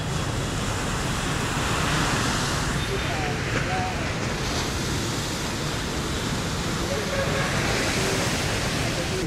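Sea surf rolling onto a beach at Nha Trang, Vietnam, a steady broadband wash with slight swells in level, close and continuous, with faint voices in the background.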